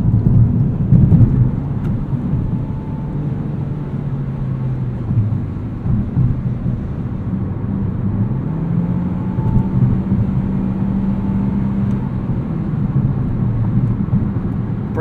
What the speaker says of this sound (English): Cruising on the highway here, pretty comfortable. A little bit more road noise, rattles, and ride harshness from the suspension tuning,